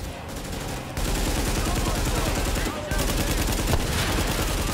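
Dense, loud gunfire fills a battle in the video game Tom Clancy's The Division, with rapid automatic bursts running almost without pause and brief gaps between volleys.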